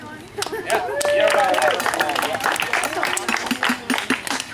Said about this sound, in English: Clap for everyone.